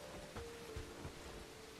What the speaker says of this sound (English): I did not plan logging in to the pouring rain.